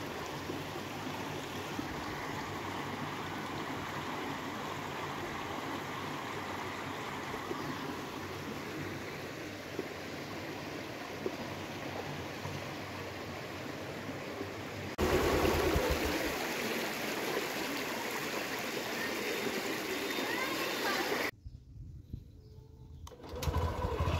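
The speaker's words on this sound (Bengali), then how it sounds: "এদিক দিয়ে তীব্র গতির স্রোত যাচ্ছে।" Strong, fast floodwater rushes past near Bhabanipur in Udaynarayanpur, making a steady, loud, broad roar that stays constant with only brief breaks. No voices are heard over it.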